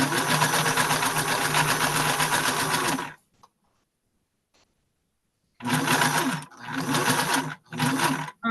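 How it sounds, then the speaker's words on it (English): Sewing machine stitching fabric pieces together for a scrappy quilt, a loud, steady, close whirring run that stops for over two seconds of near silence, then resumes in three more short bursts. "We're going to sew this to this, and then it'll all be one piece."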